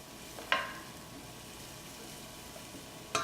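Mushroom, leek and shallot sizzle gently in extra virgin olive oil in a pan, a soft, steady frying hiss broken by two sharp clinks of utensil against pan near the start and end.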